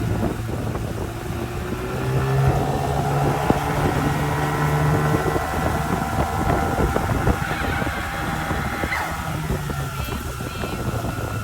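Fifteen-horsepower outboard engine driving a small boat from a sailing yacht, a steady loud droning motor with rushing water and wind buffeting the microphone throughout.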